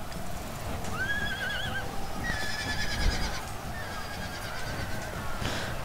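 A horse whinnies in an Empire Total War battle between Spain and the USA, two rising neighs over a steady rumble of battle noise, with hooves and distant commotion.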